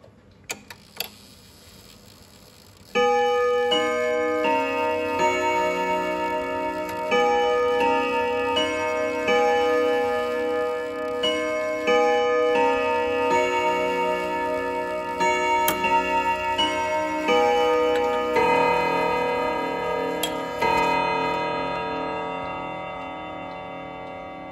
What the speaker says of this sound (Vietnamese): gông đồng, tiếng chuông rất là trầm, ngân.